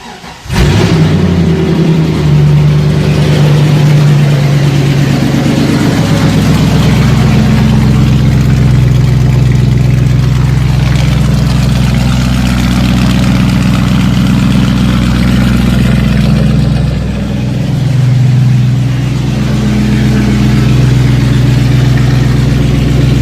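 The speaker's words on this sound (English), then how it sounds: "we'll get it started up here and see what it sounds like." A V8-swapped Ford Focus C5 with a new exhaust cranks over and fires, then settles into a loud, deep, steady idle with a slight dip and recovery partway through.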